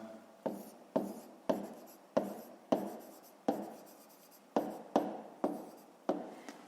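A pen writes a math solution by hand on paper, close and distinct, in repeated short bursts of scratching strokes with brief pauses between them, with no voices.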